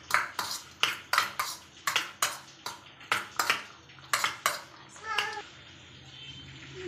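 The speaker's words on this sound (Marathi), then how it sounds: "हे सर्व आपण मिक्स करून घेऊया।" A spoon mixes chopped onion, tomato and carrot in a bowl with quick, regular scraping clinks, about fifteen close strokes, then a single ringing ping before it goes quiet.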